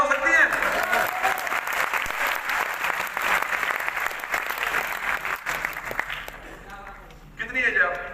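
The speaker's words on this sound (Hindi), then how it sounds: "इनके लिए तालियां हो सकती हैं" Seminar audience applauding steadily for a person invited on stage, a dense wash of many hands clapping that fades briefly before a last swell of claps near the end.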